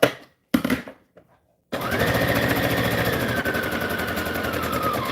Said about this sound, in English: And then I'm going to sew all the way across.